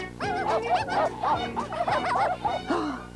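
Newborn cartoon puppies from a 1987 animated series yip and whimper in rapid high-pitched bursts, several overlapping, close and continuous.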